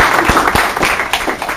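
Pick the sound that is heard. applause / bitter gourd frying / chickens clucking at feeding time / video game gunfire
applause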